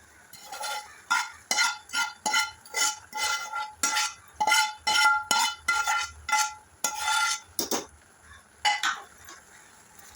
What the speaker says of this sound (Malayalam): ഇനി നമുക്ക് നാളികേരം ഇടാം